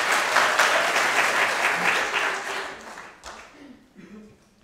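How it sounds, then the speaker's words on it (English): Audience at a haiku poetry reading bursts into loud dense clapping that gradually tapers off, with a voice starting to speak as the applause dies down. "One hand clapping, two hands clapping."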